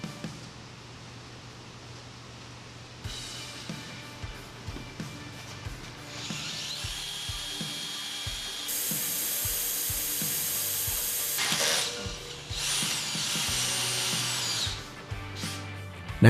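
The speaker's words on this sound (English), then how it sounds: "it'll take a little time to drill through the 1/4 inch steel of the brush guard" A power drill bores through quarter-inch steel on a tractor brush guard, its motor whining in bursts that stop and restart, with rising high-pitched grinding stretches and a few clicks between runs, close and loud.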